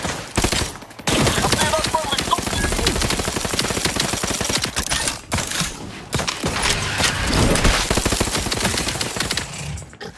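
Heavy gunfire in the sci-fi shooter Outer Worlds 2, dense rapid bursts of shots and loud booming impacts filling nearly the whole stretch, with a short lull near the start and another midway.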